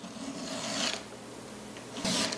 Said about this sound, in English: I try to keep my file lined right up with that angle as I'm filing